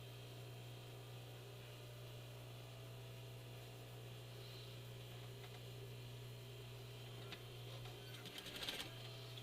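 A sewing machine stitching a narrow seam on a fabric medical mask, a low steady mechanical hum running throughout, quiet and close, with a brief burst of clicking near the end and no talk.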